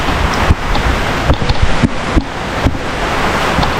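Strong typhoon wind roars and gusts steadily during a landfall storm, a broad continuous rush with sharp buffeting bursts hitting the microphone.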